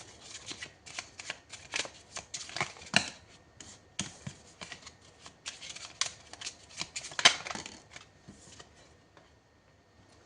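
Tarot cards being shuffled by hand, close and crisp, a long stretch of rapid riffling and sliding in uneven bursts with brief gaps, the flutter peaking loudest near the end before fading out.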